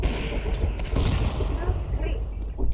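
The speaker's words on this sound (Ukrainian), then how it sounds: "У нас тут салюти." Fireworks outside a window crackle and pop in a dense, irregular barrage with some heavier booms, sounding muffled and somewhat distant while people talk nearby.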